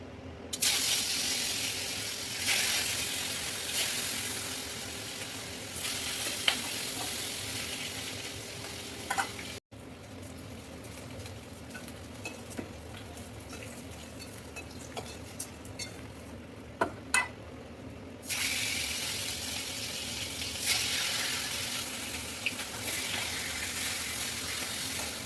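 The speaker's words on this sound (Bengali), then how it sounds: "আমি এখন মাছগুলো ভেজে নেবো।" Fish coated in salt and turmeric frying in hot oil: a steady crackling sizzle, loud at first, easing to a quieter bubbling hiss in the middle, then swelling louder again, with occasional pops and utensil taps.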